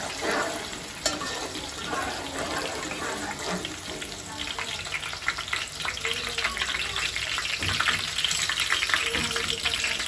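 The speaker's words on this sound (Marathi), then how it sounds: "कांदा बारीक चिरलेला 1 टाकते. थोडंसं परतून घेऊन" Finely chopped onion sizzling and frying steadily in plenty of oil for a mutton rassa, a continuous close crackle with occasional stirring scrapes, rising slightly toward the end.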